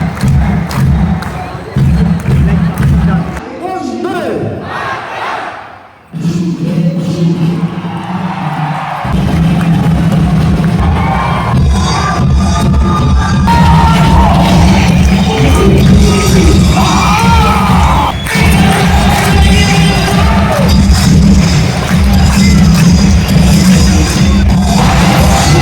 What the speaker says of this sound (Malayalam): വന്ദേ മാതരം കയ്യടിയൊക്കെ ആയിട്ട് നമ്മൾ കാണികൾ ശരിക്കും അവരെ പ്രോത്സാഹിപ്പിക്കുന്നുണ്ട് കേട്ടോ